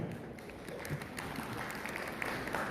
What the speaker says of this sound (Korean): 이쯤 되면 박수도 한번 나오기도 합니다